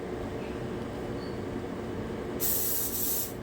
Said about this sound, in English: we're gonna spray our baking dish